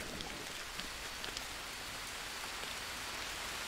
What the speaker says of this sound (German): Es regnet, das ist voll kacke jetzt für das Feuer.